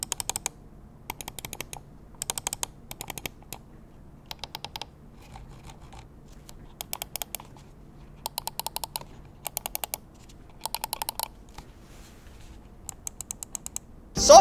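Button clicks from a gaming mouse with thumb side buttons, a DPI button and a clickable wheel, heard in repeated short bursts of crisp, close clicks with quiet pauses between them and no talking.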